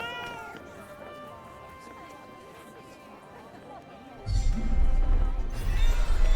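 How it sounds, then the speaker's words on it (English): Cat meowing in the Forspoken video game, a series of short rising cries over a steady game backdrop, followed by a louder rumbling burst of ambient noise toward the end. "A cat."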